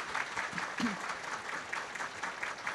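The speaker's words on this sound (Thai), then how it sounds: "ปรบมือแดงๆอีกทีได้ไหมคะ" Applause from an audience at a Giffarine business event celebrating 50,000 million baht in sales, a steady patter of clapping with faint voices mixed in, moderately loud throughout.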